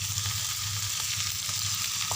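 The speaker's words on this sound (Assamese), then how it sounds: "এতিয়া সেই আলু ভাজিকে অকণমান বনাওঁ" Potatoes fry in a pan with a constant hissing sizzle, close and steady, with a few faint clicks of stirring and no voices.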